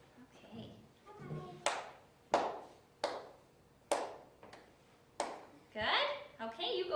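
An elementary music class claps a student's rhythm together: six sharp, crisp group claps in a short patterned beat, with brief voices before and after.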